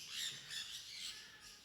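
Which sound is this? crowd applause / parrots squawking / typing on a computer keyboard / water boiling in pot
parrots squawking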